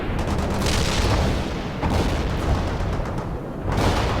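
Tank main guns firing in a modern warfare video game, dense booming blasts rolling together under continuous rumbling battle noise, loud and close with a few sharper reports.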